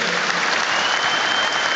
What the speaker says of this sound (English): there's a round of applause that we're all joining in with here